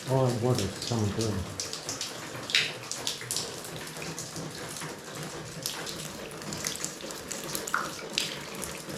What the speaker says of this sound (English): All that water is coming through.